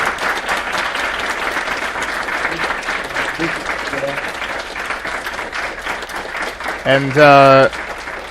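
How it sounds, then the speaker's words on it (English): An audience at a Mysterium 2017 Q&A with Cyan gives a sustained round of applause, a dense wash of clapping throughout, with a voice briefly speaking over it near the end. "let's have a round of applause for Cyan"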